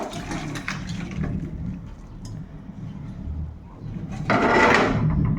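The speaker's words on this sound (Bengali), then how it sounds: "আর এই যে টকটা কিন্তু একদম ঢেলে ফেলবো।" Cooked sour amudi fish curry is poured out of a pan, with a sloshing, splashing rush of liquid building toward the end over close kitchen clatter.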